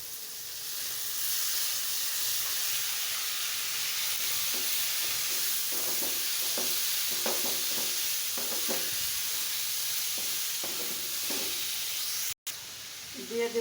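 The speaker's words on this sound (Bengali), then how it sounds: "দিয়ে দেবো সেই কচু করা পেঁপেটা।" Grated raw papaya goes into a pan with fried shrimp, and a constant sizzling hiss fills the scene. Intermittent scraping and stirring sounds sit under it, and a brief dropout comes near the end.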